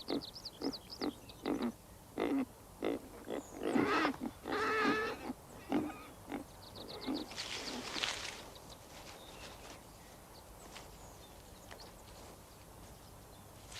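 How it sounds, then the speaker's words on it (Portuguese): Striped wild piglets in snowy mountains give a run of short grunting and squealing calls, several close bursts in quick succession before fading into quiet outdoor ambience. "Em maio, os filhotes de porco listrados infestam as neves."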